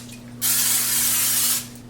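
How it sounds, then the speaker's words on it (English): A single hissing burst of olive oil cooking spray onto a skillet lasts just over a second, loud and close, with quiet before and after. "I always like to spray my skillets with the olive oil spray."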